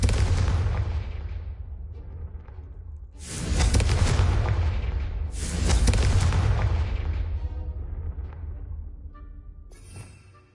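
Fiery Confringo spell explosions in Hogwarts Legacy, three big booming blasts a couple of seconds apart, each loud and full with a long rumbling tail, ending in a brief crackle.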